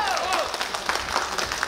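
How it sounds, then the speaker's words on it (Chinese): A crowd at an outdoor Democratic Progressive Party campaign rally in Yangmei, Taoyuan, claps loudly and continuously, with voices mixed into the applause. "拜托大家拍掌再鼓一下好不好"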